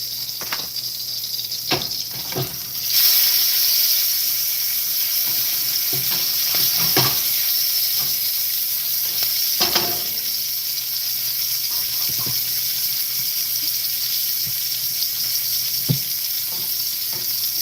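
Patties fry in a generous pool of hot oil with a constant loud sizzle and crackle, occasional pops and scraping stirs breaking through, up close and without talk.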